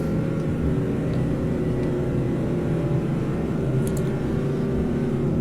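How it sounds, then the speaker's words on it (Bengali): A car engine runs steadily with a dense low rumble and a slightly rough, uneven tone, loud and continuous throughout with no voices, heard while driving on a road toward Nilphamari. "গাড়ির ইঞ্জিন মনে হয় মাইর খাওয়া, সাউন্ডটা অন্যরকম লাগতেছে।"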